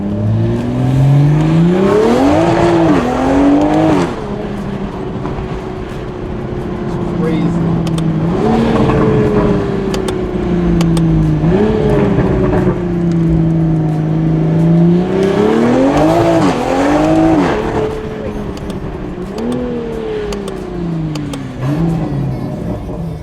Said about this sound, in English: This thing sounds gnarly, bro, with just a downpipe stock exhaust.